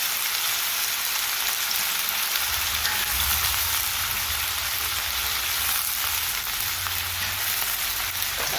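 Potatoes frying in hot oil with ginger and chilies for pav bhaji, a dense continuous sizzle with a low bubbling rumble beneath, close and steady throughout.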